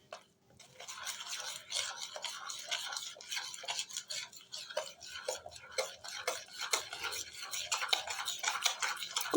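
A spoon stirs a batter for crispy French fries pakora, making a steady run of quick scraping clicks and taps against the bowl, close and fairly soft throughout.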